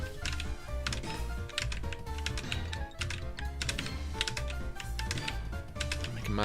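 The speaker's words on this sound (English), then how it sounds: "Listen to the clack on that keyboard." Clacky computer keyboard typing, a fast, continuous run of sharp key clacks over several seconds, loud and close with no voices.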